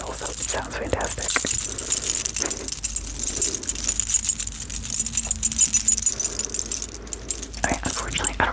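Close, bright jingling of a keychain hung with trinkets in a soft ASMR setting, irregular clinking bursts with quieter pauses between, faint low voice under the jangle.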